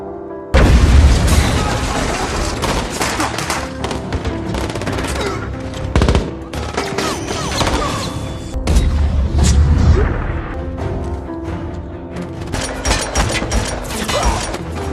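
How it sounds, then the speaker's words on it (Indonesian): Loud, dense film-scene gunfire with bursts of automatic shots and heavy booms, crashes and explosions cutting in throughout a chaotic action sequence in an abandoned factory. "Dalam kekacauan, Mr. Nobody tertembak"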